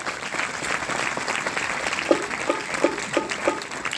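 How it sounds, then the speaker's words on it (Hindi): A village gathering bursts into loud applause, a dense crowd clapping throughout, with a few sharper rhythmic claps standing out near the end. "सभी के लिए एक बार जोरदार तालियां बजा लो"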